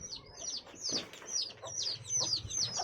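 A hen clucks in a backyard coop, a series of short, fairly quiet clucks and chirps repeating in an uneven rhythm close by.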